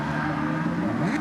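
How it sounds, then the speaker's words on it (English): Junior crosscars doing donuts on a circuit's start-finish straight, a steady blend of revving small engines and whirring drivetrains, loud and continuous with rising and falling pitch as the cars circle. "There's literally 5 children doing donuts in crosscars on the start-finish straight."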